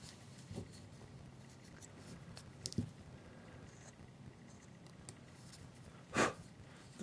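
A knife trims a wooden Santa carving, producing faint, scattered scraping and shaving strokes up close in a quiet room, with one slightly louder cut near the end.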